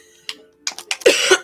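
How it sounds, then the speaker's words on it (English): A person coughs several times in a short, uneven series of harsh bursts that grow louder toward the end, heard close up in a quiet room. "don't get shocked if I just start like coughing so much"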